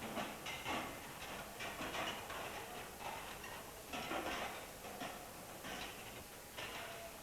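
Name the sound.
steam forced into water in galvanized iron vegetable steamer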